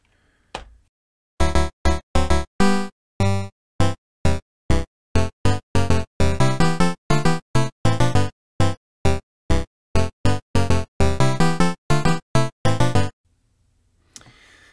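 A tune plays as bright electronic chiptune melody and bass notes without percussion, a long run of short, bouncy staccato tones in a lively rhythm, clear and alone.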